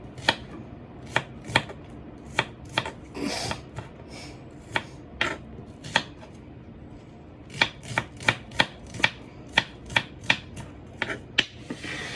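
An onion is chopped for pork curry with a knife on a cutting board, giving sharp, evenly spaced taps in quick bursts with short pauses, close and clear and without talk.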